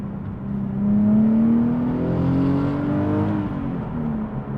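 A Nissan 370Z engine revving up from idle, its steady, close exhaust drone rising in pitch and loudness, holding at higher RPM, then easing back down.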